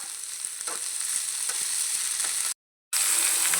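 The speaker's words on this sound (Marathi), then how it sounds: "यामध्ये तेलामध्ये आणि हाय फ्लेम केलेली आहे मी छान असं चरचर भाजून घ्यायचं आहे" Radish pods fry in hot oil over a high flame, a steady, loud crackling sizzle with a brief gap of silence before the frying resumes.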